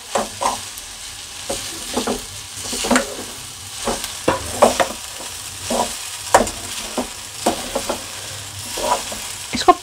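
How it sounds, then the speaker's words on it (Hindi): Vegetables and masala being stirred in a pan for tandoori chicken biryani, with repeated spoon scrapes and clinks over a steady low sizzle throughout, close and fairly loud. "अब इसको धीरे धीरे करके चला लेंगे जो सारा हमारी सब्ज़ी मिक्स हो जाए इसके अंदर"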